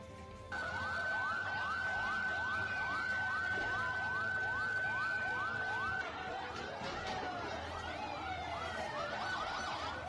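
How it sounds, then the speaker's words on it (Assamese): Sirens of ambulances and fire engines arriving at the site of a mosque bomb blast: a wailing siren rises and falls repeatedly, and a second siren overlaps it later. The sound is faint and distant. "ইতিমধ্যে কেবাখন কই এম্বুলেন্স আৰু অগ্নিনিৰ্বাপক বাহিনীৰ বাহন উপস্থিত হোৱা পৰিলক্ষিত হৈছে"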